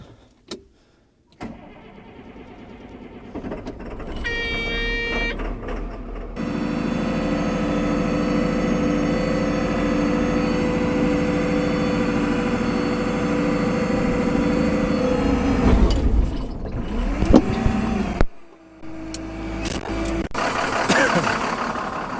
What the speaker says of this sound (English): I'm going to fire up the loader and get everything ready to roll.